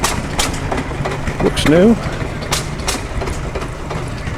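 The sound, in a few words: tractor engine running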